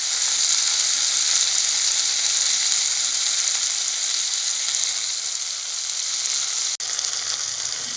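Tomatoes sautéing in a pan for garlic tamarind curry, a loud, steady, close sizzle of frying that holds evenly throughout, broken once by a brief dropout near the end.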